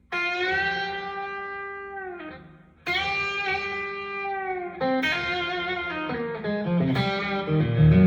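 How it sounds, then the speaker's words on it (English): Electric guitar through a Mercury7 reverb pedal with its octave-down effect, three sustained notes or chords each swelling into a deep, washy reverb tail, clear and without talk. "You hear the octave down?"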